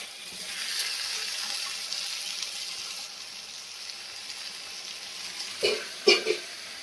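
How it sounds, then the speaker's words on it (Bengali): Potato fries in a pan with a faint steady sizzle, then fried pointed gourd pieces drop in near the end with a few soft thuds and a brief spattering burst. "আলুটা কষা হয়ে গেছে, এরপর পটলগুলো ভেজে রেখেছি, এবার পটলগুলো একে একে আমি দিয়ে দেবো।"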